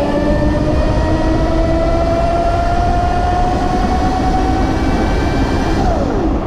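A Razor RSF650 electric dirt bike with an 1800 watt motor and an upgraded 48V 25Ah battery pulls away. Its steady, loud motor whine climbs in pitch over road and wind rush, then drops off near the end.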